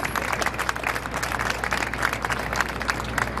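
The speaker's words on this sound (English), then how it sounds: "Please give her another round of applause." An audience applauds at an African Union flag raising ceremony in New York, a steady, dense wash of many hands clapping at moderate volume with no talk over it.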